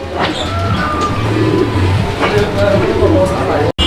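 Pigeons, a pair of rare fancy breed birds offered for sale at a pigeon dealer's, coo in low repeated throaty notes throughout, under a steady murmur of voices and general background noise.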